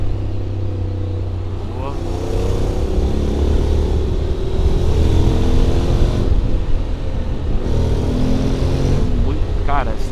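Honda X-ADV scooter riding through city traffic, a steady engine drone and road rumble close by with passing vehicles, a brief spoken word over it.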